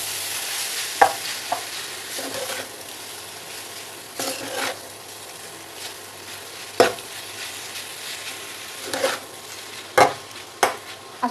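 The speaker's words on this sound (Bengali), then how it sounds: "এখন নুডলসটা আমি ভালোভাবে নেড়ে চেড়ে নেব।" Boiled noodles stirred and tossed in a frying pan, a steady sizzle underneath with scattered sharp scrapes and clinks of the utensil against the pan, some louder knocks near the end; no talking.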